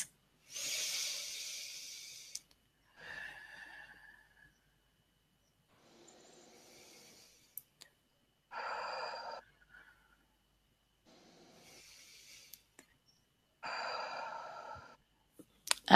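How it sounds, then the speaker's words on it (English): Slow, deep breaths taken during a relaxation exercise: several separate breathy inhales and exhales spaced by pauses of silence, close and soft. "take 3 deep breaths"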